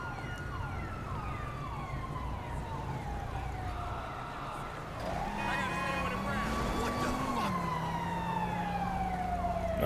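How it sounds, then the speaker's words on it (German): An approaching fire engine siren in the video game GTA V wails in long rising and falling sweeps under steady background game sound, growing louder and shifting in pitch partway through. "die Feuerwehr kommt. Ich höre Sirene."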